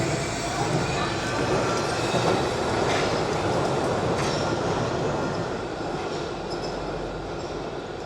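The Wuppertal Schwebebahn suspension railway train rumbles past in a steady, moderately loud roar with faint rattling wheels and light squeals, holding even for several seconds before easing slightly.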